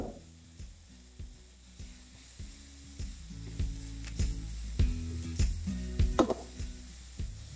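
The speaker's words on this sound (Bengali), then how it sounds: "এটাকে একটু ভালো করে আমি প্রথমে ভেজে নিচ্ছি" Ginger and green chilli fry in hot oil for bread pakora, giving a steady close sizzle broken by regular scraping stirs of a spatula, with a faint steady tonal hum underneath.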